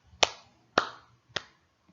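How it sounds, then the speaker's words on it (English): Three sharp, separate claps spaced about half a second apart, crisp and close against near silence, used as a sound effect. "If you did, then you deserve this clap."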